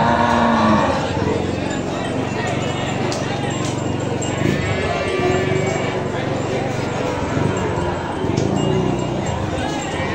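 Cattle low amid a noisy Indonesian cattle market, with constant crowd chatter, hoof clatter and general bustle filling the scene.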